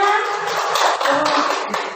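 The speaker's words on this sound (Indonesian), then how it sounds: "Tepuk tangan buat Bapak dan Ibunya." Classroom applause after a school lesson on positive culture: a dense wash of many hands clapping at once, steady and fairly loud for the whole stretch, with no distinct individual claps standing out.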